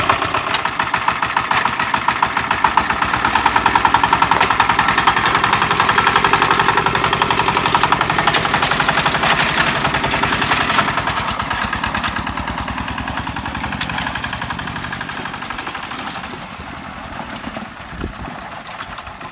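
A Forte 8 hp walk-behind tractor engine runs steadily for the whole stretch, a loud, close, mid-pitched idling chug that eases slightly toward the end.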